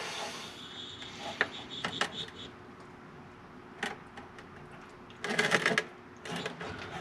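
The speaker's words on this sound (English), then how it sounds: "So I take my little suction thing, pulls the oil up." Hand suction pump drawing oil out of the engine of a 1980 Camaro being prepped for drag racing, with intermittent squeaky pumping strokes and mechanical clicks in a quiet garage.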